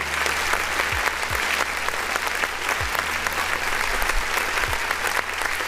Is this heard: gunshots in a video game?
no